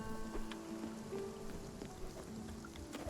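Rain falls in the video game Spiritfarer as a soft, steady patter of drops. It stays faint and even, with gentle sustained music tones underneath.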